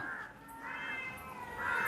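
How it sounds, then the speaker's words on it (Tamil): A cat and birds fighting, with harsh screeching and caw-like cries rising and falling over about two seconds, fairly close and steady in loudness. "பூனையும் பச்சிக்கல சண்டைக்கு இங்கே கத்தி கேட்குதப்பா"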